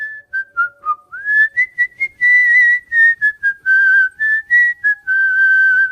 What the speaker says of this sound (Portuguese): ouvimos o assobio